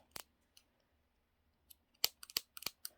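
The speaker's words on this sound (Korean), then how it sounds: "그래서 이렇게 꺾어지는 부분은 항상 이렇게 가위집을 주시는 거예요" Scissors make sharp snips while notching the seam allowance on a sewn fabric doll, with a single cut at first and then a quick cluster of crisp, close clicks toward the end, with no talking.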